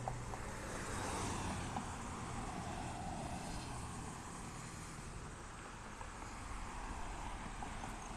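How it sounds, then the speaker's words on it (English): Steady, loud roar of passing cars at a street crossing, a continuous broadband wash of road noise that holds for the whole stretch with no pauses. "Sorry for the noise. We're trying to cross,"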